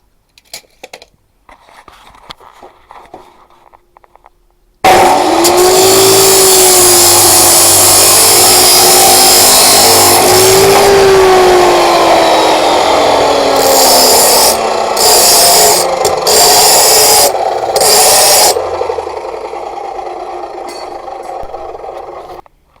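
Power tool cutting and grinding metal while fabricating custom car exhausts, a loud continuous abrasive roar that starts abruptly after a quiet stretch of small handling sounds, with a whining pitch sweep and brief interruptions.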